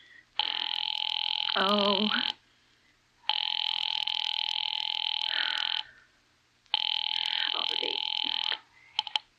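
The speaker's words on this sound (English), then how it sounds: "Ringing the police department." An old-fashioned telephone bell rings three times in long, loud, steady bursts inside a 1940s-style suspense radio drama, with a brief gasp and a croaky voice between the first rings.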